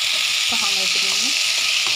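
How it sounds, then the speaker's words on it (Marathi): Vegetables for pav bhaji sauté in a pan over low heat, a dense close sizzle running throughout while a voice speaks faintly underneath. "छान आपल्याला हे सर्व भाज्या एकदम व्यवस्थित मंद आचेवरती परतून घ्यायच्या आहेत."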